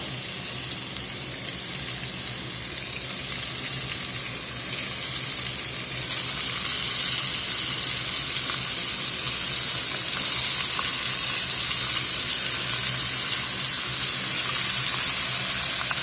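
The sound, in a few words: beef searing in oil in a pot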